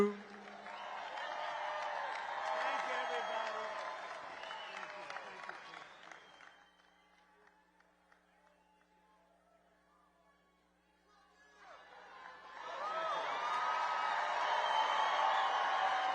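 A large crowd at a birthday celebration for the 78-year-old former president applauds and cheers loudly, fades to quiet murmuring, then bursts into applause again.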